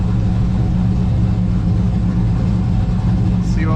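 An LS-swapped car engine running loud and close, a steady low rumble that holds fairly constant with a brief higher whine near the end.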